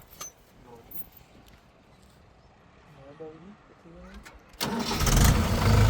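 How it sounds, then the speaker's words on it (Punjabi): A farm tractor cranked with its self-starter after a few seconds of quiet voices, then the engine catches and runs loud and close, rumbling steadily to the end. "ਚਲੋ ਚਲੀਏ ਕਰੋ ਸਟਾਰਟ ਮਾਰੋ ਸੈਲਫ"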